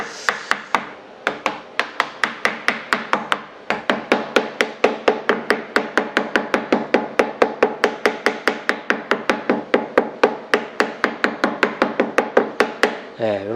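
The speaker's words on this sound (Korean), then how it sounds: "이게 망치로 여기 가운데를 쳐버리면 여기가 부서질 수도 있어서 이 끝에만" A hammer taps lightly and repeatedly along the edges of a workpiece being prepared for machining, producing dozens of crisp, evenly spaced knocks at a brisk steady rhythm, close and fairly loud with no talking.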